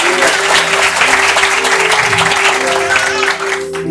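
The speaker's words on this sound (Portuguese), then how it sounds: "Aplaude ao Senhor." A church congregation claps for the Lord during a Portuguese-language worship service, loud continuous applause from many people with a sustained musical tone underneath.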